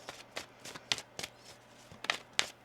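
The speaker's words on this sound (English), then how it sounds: "One more shuffle here." Tarot cards being shuffled by hand up close, a series of quick riffling bursts and soft taps in an irregular rhythm, quiet and without speech.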